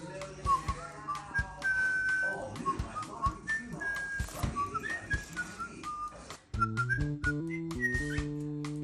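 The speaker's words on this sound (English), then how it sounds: "Start whistling." A person whistles to a pet bird, a series of clear melodic whistled notes rising and falling, followed by sharper repeated whistled tones; faint bird chirps and scattered background noises mix in.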